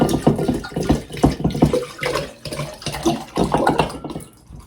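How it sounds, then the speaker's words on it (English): Water is poured into a jar to top off a floral vinegar, making an irregular gurgling splash that pulses unevenly and thins toward the end. "So all I'm going to do now is top this off with my water."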